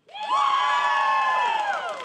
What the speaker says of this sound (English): We got some applause there